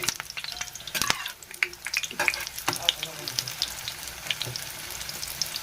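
Two parathas frying on a pan, with crackling sizzles and irregular pops, and a few sharp clatters of handling early on.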